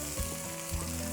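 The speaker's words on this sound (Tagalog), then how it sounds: "At itutuloy ko lang yung paggisa dito" Garlic sautéing in hot oil in an outdoor farm kitchen, a steady close sizzle with two brief bursts of stirring, no voices.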